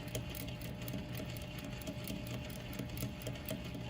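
A sewing machine stitches a rolled hem with a rolled hem foot, running as a steady, close mechanical whir with a rapid needle rhythm throughout and no talking.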